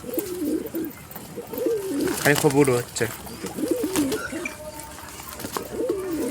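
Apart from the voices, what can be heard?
pigeons cooing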